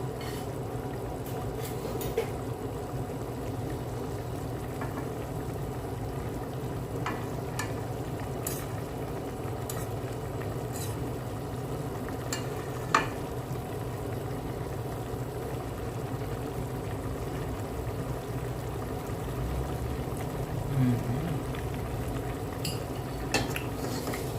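A simple Thai papaya and pork curry broth heats toward a boil in a pot, giving a soft steady bubbling hiss with occasional light clinks of utensils against the cookware.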